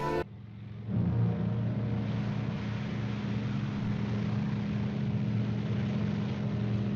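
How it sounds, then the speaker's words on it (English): A propeller plane departs in the 1942 film Casablanca, its engine a steady, loud droning rumble that swells after a brief quiet start and holds on without talk. "And the plane leaves."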